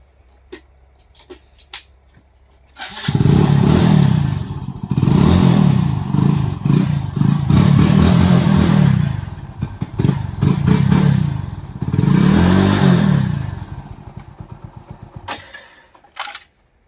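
A motorcycle kicks into life after a few faint knocks, then roars loudly and close in long, surging revs that rise and fall several times before cutting out.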